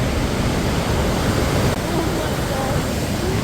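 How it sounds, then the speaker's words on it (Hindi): A river swollen after heavy rain in a hill region rushes past as a steady, loud broadband roar of flowing water, continuous throughout with no pauses. "ये देखो नदी कितनी ज़्यादा बढ़ रखी है"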